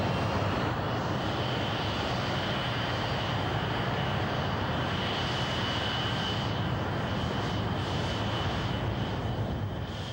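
Thrust SSC, the jet-powered supersonic car, with its engines roaring: a loud, unbroken, wide-band jet roar that holds steady throughout with no talk over it.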